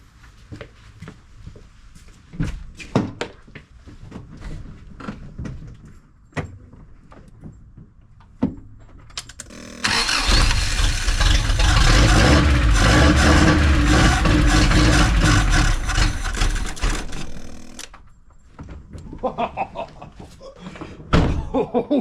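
A Subaru engine that had sat unused for ten years in the mountains cranks and catches, then runs loudly for about eight seconds before cutting out, with scattered knocks and clatter before and after.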